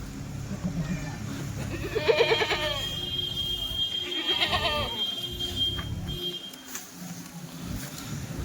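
A Kathiawadi goat bleats twice in wavering cries a couple of seconds apart, fairly close, over a low background rumble.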